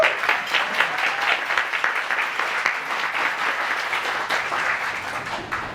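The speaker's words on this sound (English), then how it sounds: "Can you give Francesca a round of applause?" An audience at a keynote gathering gives Francesca a round of applause, a sustained crowd clapping that rises at the start and stays even, moderately loud, without talk.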